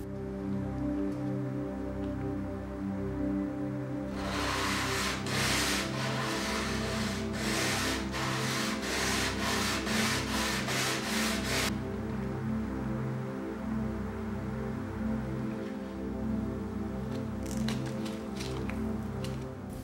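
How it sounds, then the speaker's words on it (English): A power sander works over an old painted wooden dresser, holding a steady mechanical hum throughout. A burst of harsh, scratchy abrasion rises in the middle and then fades back to the motor drone. "it gives me a chance to practice with these various power sanders, as well as other sanding tools."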